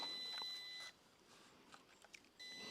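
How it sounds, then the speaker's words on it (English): A drone emits a thin high-pitched electronic beep continuously, which cuts out for over a second amid light handling noise, then resumes. "Still beeping."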